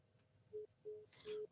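A phone call hangs up with three short, evenly spaced electronic beeps, faint and clear against a quiet background.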